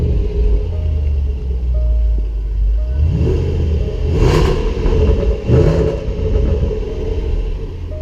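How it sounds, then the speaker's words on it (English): A 2016 Range Rover Sport SVR V8 starts with a deep, loud rumble, then blips the throttle twice in quick revs before dropping back to a heavy, burbling idle, close up and with no talking. "So it's a very angry sounding V8 engine."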